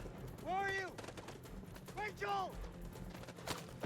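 Gunfire in the video game House of Ashes, a few sharp shots and bursts scattered under shouted, tonal voice-like cries and a busy battle backdrop.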